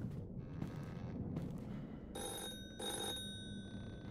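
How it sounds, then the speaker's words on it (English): A telephone rings in a Roblox horror game, two bright electronic trilling bursts separated by a short pause over a low rumbling ambient background. "Oh, my lantern's ringing."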